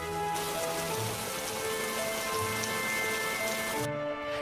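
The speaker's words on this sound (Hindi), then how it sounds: "जल्दी ही बारिश रुक जाएगी।" Steady rain pours down in a constant, even hiss of drops on surfaces, moderately loud throughout, with faint sustained tones beneath and no voices.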